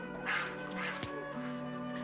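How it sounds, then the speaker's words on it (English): A duck swims in a church well, giving a few nasal quacks over steady background music, fairly close. "in the well swims a duck"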